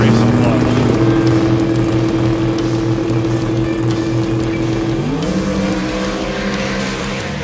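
Drag race cars Snot Rocket 1 and Snot Rocket 2 race at Sick Week 2024, loud engines holding a steady high drone that shifts pitch partway through, continuous with no break.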